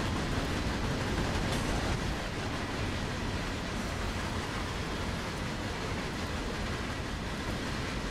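A railroad train in the video game Train Sim World rumbles along the track with the throttle at notch 7, a dense, steady, loud broadband roar with no clear breaks.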